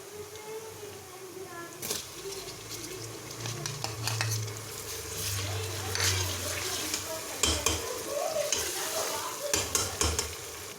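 Something browning in a pan for a dal chana chicken dish gives off a continuous sizzle, cut by sharp spoon scrapes and clinks against the pan. A voice talks quietly in the background.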